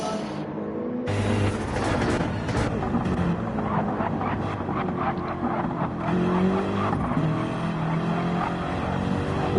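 Racing video game cars in a league race roar continuously as one car spins off, with a dense engine drone, rising revs and some tire noise, loud and up close.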